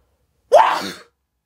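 A single sharp sneeze bursts out suddenly, loud and close, then trails off within half a second.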